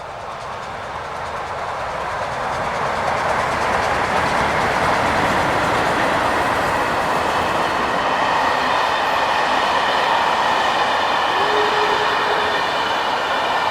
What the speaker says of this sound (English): I was able to catch up with the triple-headed train again